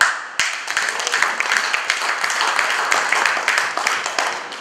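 A crowd applauds throughout a passport launch ceremony: dense, steady clapping that stays at an even, fairly loud level with no voices standing out.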